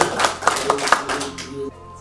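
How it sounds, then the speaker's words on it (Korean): Audience at a reading gathering claps in a short burst of several sharp claps that trail off after about a second and a half, with faint voices underneath. "다시 한번 박수 한번"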